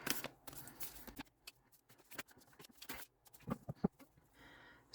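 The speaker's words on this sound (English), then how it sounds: "I like to hand over hand shuffle until it feels right" Tarot cards being shuffled hand over hand, a quiet, close series of irregular papery slaps and riffling bursts with brief pauses between them and no talking.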